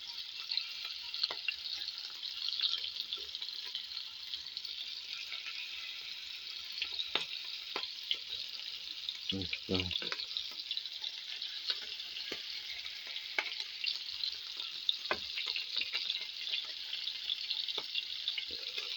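Pork liver cutlets fry to a golden crust in a pan, giving a constant sizzle with scattered pops and crackles and a short low bump partway through, with no talk.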